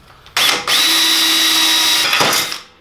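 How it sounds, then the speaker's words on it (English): A loud power drill spins up and runs steadily for about two seconds, then winds down; close and alone. "I'm gonna go ahead and drill this hole for the rear of the tank to mount in"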